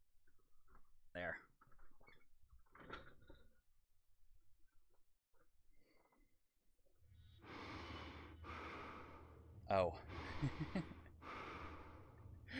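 Heavy, rhythmic zero-gravity breathing from the sci-fi game Prey, a series of loud, broad breaths over a low rumble that starts partway through, after scattered quieter sounds and a brief spoken exclamation.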